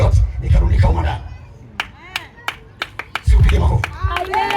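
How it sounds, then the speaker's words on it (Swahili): Several sharp, separate hand claps ring out in a church service, set between stretches of a preacher's voice talking over them. "Pigia Yesu makofi wewe"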